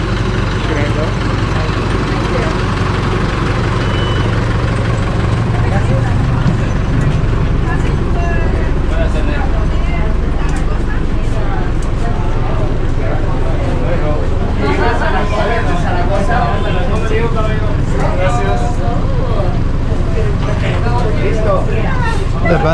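A tour bus engine idles with a loud, constant low rumble and drone that fills the whole stretch, with people talking over it throughout.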